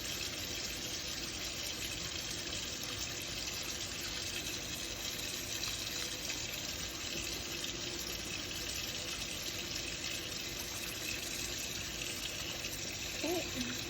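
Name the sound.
water running while rinsing hands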